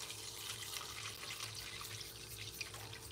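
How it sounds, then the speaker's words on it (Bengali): Water pours from a tap into a golden retriever's bowl, a steady soft splashing rush that runs the whole stretch at a fairly quiet level, with a faint low hum underneath. "দাঁড়া, জল দেবো তোমার বাটিতে, দাঁড়া।"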